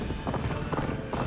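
Horse hooves clip-clop in a steady, busy gallop in the video game Assassin's Creed Valhalla, fairly loud and continuous across the short stretch.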